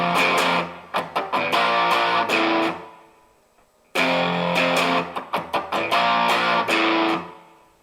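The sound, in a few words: electric guitar, bottom three strings struck open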